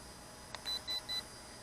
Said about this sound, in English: 3 beeps, and it says 100 top right.